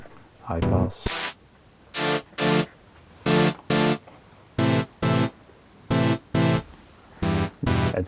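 A Modor NF-1 digital synthesizer repeats short bursts of notes through its high-pass filter with a thin, bright tone, the low end cut away, in a steady pattern with brief pauses.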